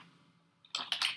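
Typing on a computer keyboard: a few quick clustered keystrokes near the end of a short, otherwise quiet stretch, close and fairly crisp.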